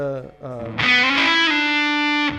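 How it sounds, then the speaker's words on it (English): Fender electric guitar with heavy fuzz distortion plays a short bend and then sustains a thick, buzzing note, loud and close. "Is that considered a fuzz distortion sound? Yes."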